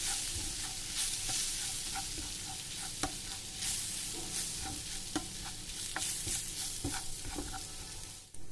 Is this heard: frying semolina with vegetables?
yes